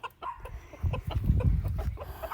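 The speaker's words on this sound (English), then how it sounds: "And now we're just going to let the hens out," Hens cluck in short, irregular bursts close to the microphone, with soft scratching and shuffling underneath as they get ready to be let out to peck around.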